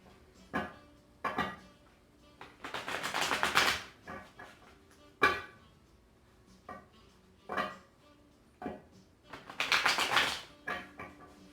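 Cards being shuffled in several bursts: quick riffling flutters alternating with taps and soft slaps of the deck, close and clear, no voices.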